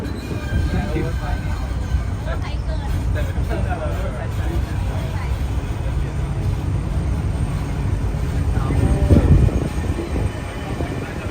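A Disneyland tram rolls along with a steady low rumble, faint squeals and rattling. A voice speaks over the ride noise throughout.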